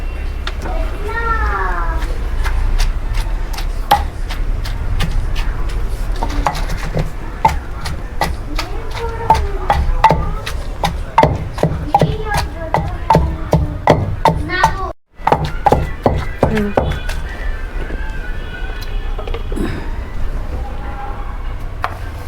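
Chillies and tomato being pounded by hand in a stone mortar for chutney, with sharp repeated thuds and knocks at an uneven rhythm, close and loud, while someone talks throughout and a voice occasionally joins.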